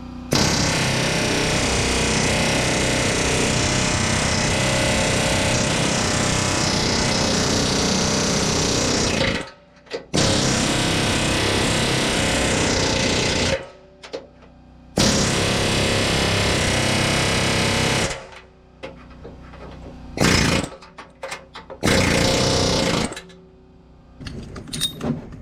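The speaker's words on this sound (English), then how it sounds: "let me go ahead and get these rivets out, see if we can get this cross member out" Loud, harsh pneumatic tool grinding and hammering out rivets from a cross member on a bumpside 4x4 Ford truck frame, running in long bursts broken by short pauses.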